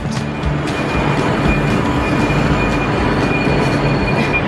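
Train pulling into London Euston station, a steady loud rumble of wheels on rail with a faint high squeal running through, close and continuous with no talk.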